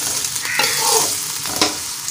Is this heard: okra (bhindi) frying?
yes